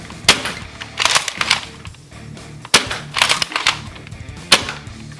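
An Adventure Force Nexus Pro toy blaster fires regular foam darts: about five sharp, snappy shots with short mechanical rattles between them, close and clear with no talking.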